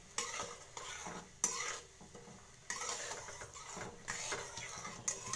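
Dried red chillies frying in oil in a pan over lowered gas heat while cooking jeera rice, a steady crackling sizzle with stirring and utensil scrapes, fairly close, with no talk.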